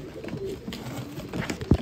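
A pigeon coos softly at close range in a loft, low murmuring calls over faint background noise, with one stronger low coo near the end.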